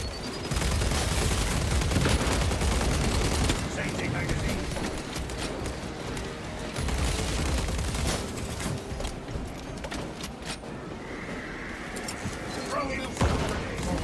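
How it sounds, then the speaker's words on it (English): SMG gunfire in Space Marine 2 rattles in loud, dense bursts mixed with heavy combat noise and explosions, while a voice talks over the action. "it definitely feels like I'm playing the assault with this SMG. It feels like it has a similar firing pattern."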